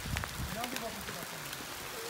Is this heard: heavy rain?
yes